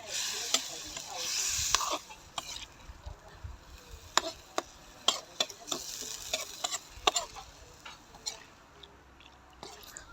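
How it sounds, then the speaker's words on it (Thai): Eel stir-fried with holy basil in a pan: a burst of sizzling opens, then irregular spatula clacks and scrapes tap against the pan over a soft, continuous frying hiss. "พัดไปเรื่อย ๆ จนเนื้อมัน เนื้อมันสุกนะครับนะ"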